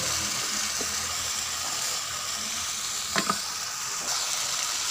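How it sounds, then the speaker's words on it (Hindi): Onions, green chillies and tomatoes frying in a pan for a chana dal and fresh pumpkin dish, a steady close sizzle throughout with a few brief stirring clicks and no talking. "अब हम इनको मिक्स कर देंगे, थोड़ा सा भूनेंगे।"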